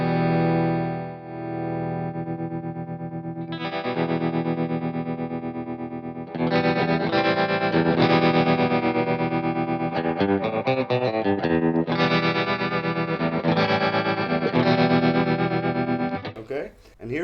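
Sustained electric guitar chords through a tremolo pedal on its sine wave setting pulse smoothly in volume with a gentle, wavering throb, strummed anew several times and ending abruptly.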